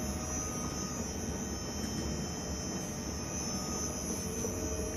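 A 50-litre explosion-proof vacuum planetary mixer churns high-viscosity solid rocket propellant, producing a steady, even mechanical hum and whir with no breaks, moderately quiet and constant.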